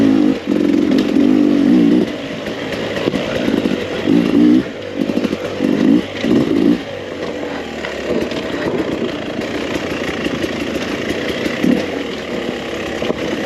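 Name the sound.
2021 Beta 300 RR two-stroke dirt bike engine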